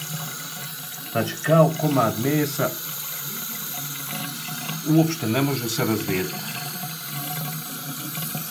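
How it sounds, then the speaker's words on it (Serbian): Water runs steadily over a blood clot drawn out during hijama cupping, a continuous faucet-like stream under a voice. "posipa se vodom kao komad mesa, znači voda mu ništa ne može"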